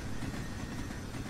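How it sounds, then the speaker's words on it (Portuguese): A train passes in the horror video game Don't Chat With Strangers, a brief, dense, low rumble of rolling rail cars that stays loud and close throughout. "Trem."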